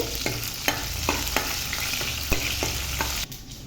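Coarsely crushed garlic, about ten cloves, sizzles in a hot oil tempering while a spoon scrapes and stirs in a regular series of sharp knocks over a constant frying hiss.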